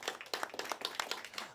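A talk-show audience claps for about a second and a half, a thin scattering of hands with sharp individual slaps and no voices.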